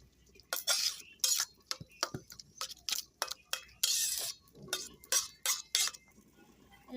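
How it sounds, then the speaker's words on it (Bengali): A spatula stirs grated coconut and hot water in a metal pot, making quick, repeated scraping clinks in short bursts with brief pauses between strokes, close by and fairly soft. "আমি একটু খুন্তি দিয়ে নেড়ে ছেড়ে নারকেলগুলো গরম জলের সাথে ভালো করে মিশিয়ে দিচ্ছি।"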